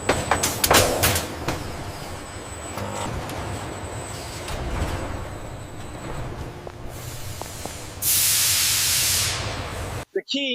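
Pressurized water spray at about 50 psi washing grapes in a fruit-processing factory, a continuous close hiss over machinery rumble that surges into a loud burst before cutting off abruptly.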